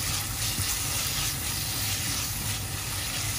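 Beef and scallions sizzle steadily in a hot pan while being stirred, a dense continuous hiss of frying with occasional scraping, close and even throughout.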